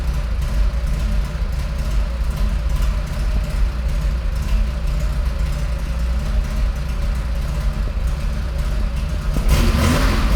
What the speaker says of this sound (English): Let's let it idle for a minute here.